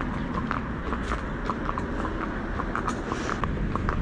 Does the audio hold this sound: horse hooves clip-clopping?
yes